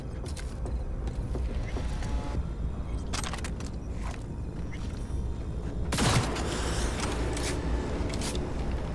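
Gunshots in the video game Cyberpunk 2077, a steady mechanical clatter of firing with creaks and rattles, then a single louder sharp blast standing out near the end, over a constant low rumble.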